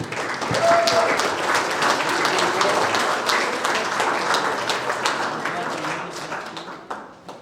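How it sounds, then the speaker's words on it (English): Guests at a mental wellness golf tournament gathering applaud themselves, full clapping that swells quickly and then gradually thins out and fades over several seconds. "give yourselves a round of applause"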